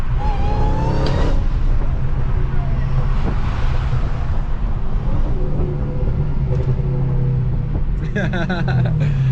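A turbocharged Dodge SRT Hellcat engine drones loudly and continuously from inside the car during a race, with a burst of crackling exhaust pops near the end and voices under the roar.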